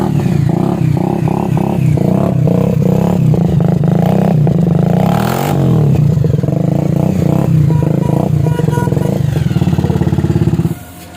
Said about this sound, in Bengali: সাউন্ড খুব ভালো, মডিফাই করা আছে সাইলেন্সার